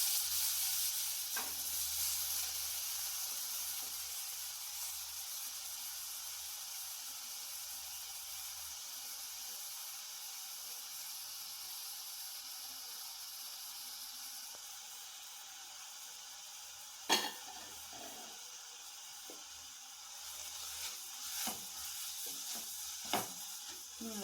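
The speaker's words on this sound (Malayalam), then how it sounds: "നെയ്യ് ഒഴിച്ചിട്ടുണ്ട്. നമുക്ക് ക്യാരറ്റ് ഇട്ട് കൊടുക്കാം." Chopped carrots frying in ghee in a pan, a soft, steady sizzle that runs on and on with a few sharp knocks of stirring near the end.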